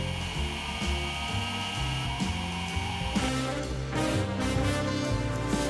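A Timemore Sculptor 064 electric coffee grinder with turbo burrs grinds beans in a steady motor whine and gritty crunching, shifting in pitch partway through, close and continuous with no voices.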